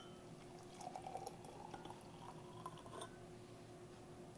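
Faint pouring of hot water into a cup for hot chocolate, with a gurgling trickle that rises and falls over a few seconds in a quiet room.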